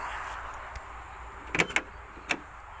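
A Volkswagen Passat B3's car door is opened and shut, giving a few sharp, close clunks and latch clicks in quick succession against a quiet background.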